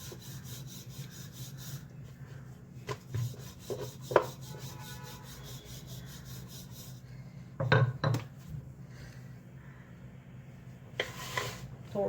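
Puran poli dough being rolled out directly on a board with no cloth underneath: soft, faint rubbing and rolling strokes in repeated passes, with occasional light knocks of the rolling pin against the board.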